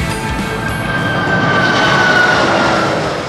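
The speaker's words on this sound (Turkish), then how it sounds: "Uçakların ürettiği yüksek ses" Loud, steady roar of an airplane engine, a dense continuous rumble with a faint high whine running through it.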